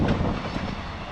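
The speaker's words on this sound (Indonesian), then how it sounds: "Sekarang keretanya lewat." A freight train rumbles past nearby at a Japanese railway crossing with a steady, dense low roar and faint rattling, continuous throughout with no voices.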